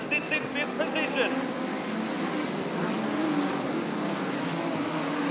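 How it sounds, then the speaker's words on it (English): Speedway race cars roaring down the back straight at a Sydney track, a dense continuous engine drone with revving, heard at a distance under a race commentator's voice. "Jenkins and Brown make wheels down the back straight."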